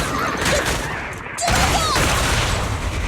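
Dense gunfire in the video game Zenless Zone Zero on Android, a loud barrage of shots and impacts with a brief dip before resuming, with game voices mixed in.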